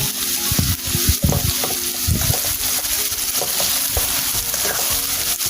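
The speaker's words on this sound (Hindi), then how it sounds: "इसको गोल्डन ब्राउन कर लेते हैं। प्याज हमारे ब्राउन होना शुरू हो गया लाइट।" Sliced onions frying in a pan toward golden brown for a white korma, a steady sizzle broken by repeated scraping and stirring knocks, close and fairly loud, with no talking.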